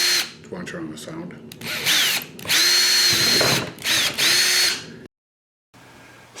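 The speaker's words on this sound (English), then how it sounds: "Use a drill with a 1/4 inch bit and drill through." A power drill with a 1/4 inch bit bores through a PVC T fitting, whining loud and close in bursts of revving and stopping for about five seconds before falling silent, then a faint hum returns.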